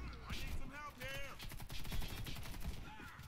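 Rapid automatic gunfire in the online shooter Warface, a fast rhythmic train of shots heard under a player's talk.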